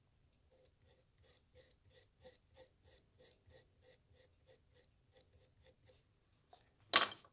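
Small hand tool cutting notches for guilloché decoration on an oil lamp, a steady run of quiet, evenly spaced crisp clicks, then a short gap and one louder sharp snap at the end.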